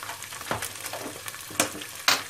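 A spoon stirring tarhana soup in a pot, soft scrapes and light knocks against the pot over a faint sizzling hiss, with a few sharper clinks near the end.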